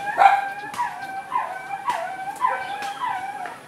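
A group of dogs in the Philippines howls and yelps in a series of rising, wavering cries, each about half a second long, at moderate distance and without talking.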